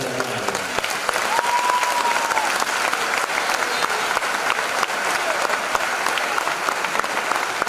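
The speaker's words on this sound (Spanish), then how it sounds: "por favor, que sea un aplauso grande y grande" Loud, sustained applause from a large crowd at a high school graduation ceremony, steady clapping filling the whole stretch with no break.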